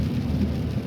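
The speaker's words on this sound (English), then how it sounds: "it's all rain." Steady rain falling during a winter storm, a dense, even wash of drops with a low rumble underneath, continuous and fairly loud with no voices.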